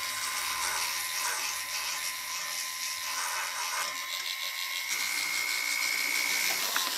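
A handheld power tool sands a layered watercolor paper pendant, giving a high, steady whine and buzz that shifts pitch slightly as pressure changes, close up and continuous.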